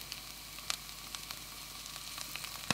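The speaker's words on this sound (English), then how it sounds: "I just want to sauté the mushrooms" Onion and mushrooms sauté in oil in a pan with a steady, soft sizzle, dotted with small crackles and pops throughout.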